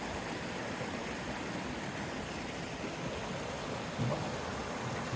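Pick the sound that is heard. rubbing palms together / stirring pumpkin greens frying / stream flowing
stream flowing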